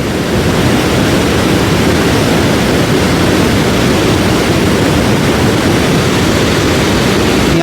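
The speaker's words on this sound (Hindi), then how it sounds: "पुराना पुल में तो पूरा पानी आ रहा है देखो" Rushing river water near a mountain bridge on the Kedarnath trek, a loud, unbroken roar of torrent close by, steady and broadband with no other sounds.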